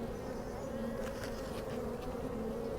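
Honeybees buzz in a steady, close drone over an opened hive box with emerging brood, a dense continuous hum with no talking.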